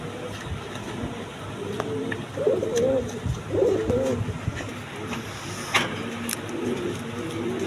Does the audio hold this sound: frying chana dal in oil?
no